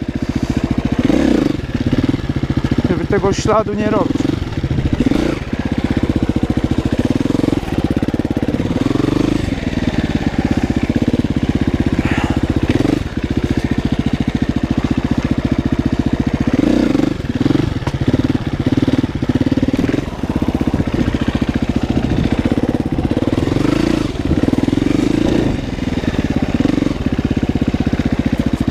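A motorcycle engine runs steadily and loudly throughout as the bike pulls away onto a meadow, with a brief rise in revs near the start and someone talking briefly over it.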